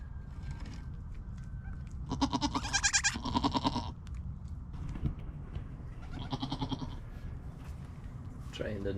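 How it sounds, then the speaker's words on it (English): Goats bleat in a birthing pen, with a mother goat and her newborn kids nearby; two loud bursts of repeated bleating come close together, then a fainter cry later, over steady low background noise and a voice speaking. "Too many goats to keep track of."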